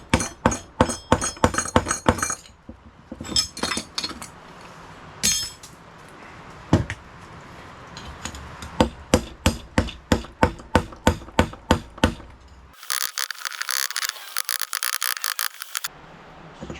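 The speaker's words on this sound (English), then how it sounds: "Have my official bearing removal tool. Just a really bad screwdriver." A screwdriver is hammered to knock out a bearing on a 1998 MTD lawn tractor, giving loud, close metallic clanks in quick rhythmic bursts with short pauses, then a stretch of rapid rattling near the end.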